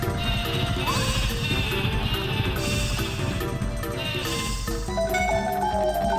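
Sheep bleating from the Sleepy Sheep move in the Paper Mario video game, steady and continuous over a dense layer of game music and effects.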